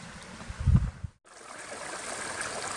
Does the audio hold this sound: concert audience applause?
no